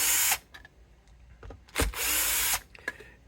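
Bosch power drill driving screws into a vintage early-1970s Gibson Les Paul Deluxe Goldtop guitar: two short, loud whirring bursts with faint clicks and handling noise between and after them.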